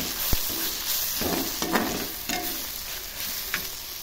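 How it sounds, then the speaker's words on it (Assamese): Ground spices (coriander powder, garam masala and red chilli powder) fry in a pan while being stirred, giving a steady soft sizzle with scattered scraping strokes of the spoon, close and alone. "আকৌ অলপ সময় ভাজিলোঁ।"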